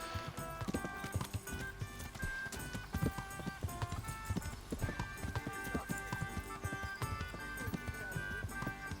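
A horse gallops at full speed in Kingdom Come: Deliverance, its hooves pounding in a fast, steady clip-clop rhythm with jingling tack, loud and close throughout.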